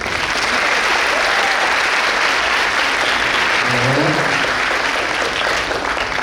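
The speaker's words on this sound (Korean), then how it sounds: "큰 소리로 박수 보내주시면 좋겠습니다" Students at a 2026 high school entrance ceremony rehearse applause as guests enter, a loud, dense, sustained clapping from a large crowd filling the hall without pause, with a few faint voices underneath.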